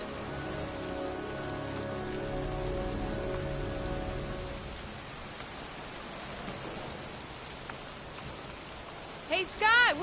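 Pouring rain falling in a cemetery, a steady hiss of drops on surfaces that stays soft and even throughout, with a brief burst of voice right at the end.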